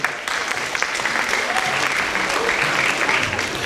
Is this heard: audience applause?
yes